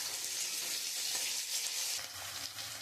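Capsicum fries with browned onions in a pan, giving a faint, even sizzle that stays steady and quiet with slight shifts near the end.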